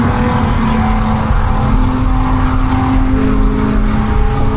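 Eddie's 2-valve car rumbles loudly and steadily at a big South Texas car club beach cruise, a continuous close engine drone with a low hum and no pauses.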